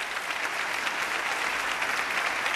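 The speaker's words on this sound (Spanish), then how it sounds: "un aplauso largo y emotivo para los aún príncipes de Asturias" Long, emotional applause fills the hall of the Leyre Monastery for the Prince and Princess of Asturias, a dense, even wash of many hands clapping without pause.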